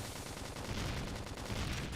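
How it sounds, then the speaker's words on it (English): Gunfire in the Xenoblade Chronicles X video game, a dense, loud burst of rapid automatic shots blending into a continuous crackling roar throughout, with no talk over it. "Let's wake him up with some gunfire."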